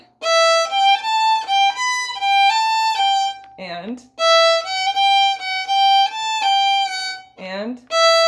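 A fiddle plays the Star of Munster reel with a 5-3 bowing pattern, bright bowed notes in quick runs and slurs, twice interrupted by brief scooped glides, played close and alone.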